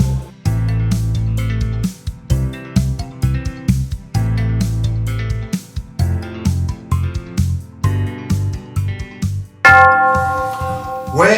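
A bell rings out partway through a cheerful jingle backed by bouncy instrumental music, its bright tones sustaining loudly near the end over the rhythmic accompaniment.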